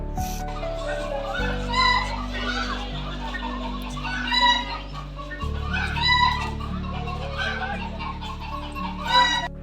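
Chickens cluck and squawk intermittently over a steady low hum at Bannerghatta Biological Park in Bangalore, with children's voices and chatter in the background.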